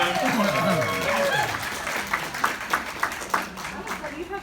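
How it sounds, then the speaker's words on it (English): Applause at a local seminar in DFW starts under a man's speech and crowd chatter, then grows into sparse, distinct claps from the audience that continue as the talking fades. "Give her a round of applause."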